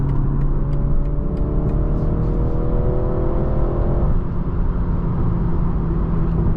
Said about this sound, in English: Try to accelerate, it's going to downshift.